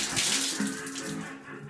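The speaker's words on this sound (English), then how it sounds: "Fill up this water here and" Water runs from a tap into a container in a steady, close hiss and splash that holds for under two seconds with no one talking.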